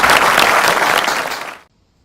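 Audience applause at an international Indian culture celebration finale, a loud dense clatter of many clapping hands that holds steady for about a second and a half, then cuts off abruptly into silence.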